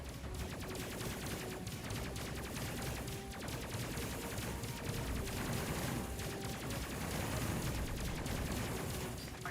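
Dense, continuous barrage of gunfire-like blasts and crashing explosions from an enemy in the space combat game Space Crew, loud and sustained without a break.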